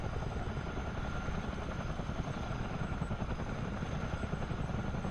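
Steady, loud rotor thump and turbine drone of a CH-47D Chinook twin-rotor helicopter in a flight simulator, continuous throughout with no talk.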